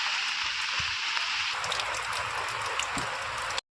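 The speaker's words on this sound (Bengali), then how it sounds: "আর প্রচুর বৃষ্টি হচ্ছে।" Heavy rain falling on a rooftop where pigeons shelter, a dense, steady hissing roar with occasional louder drips, continuous and close until it cuts off at the end.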